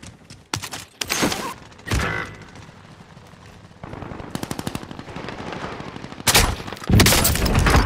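Automatic and single gunfire from a military shooter video game, with sharp bursts of rapid shots, loud thuds and scattered impacts spread across several seconds, firing close and dense in stretches.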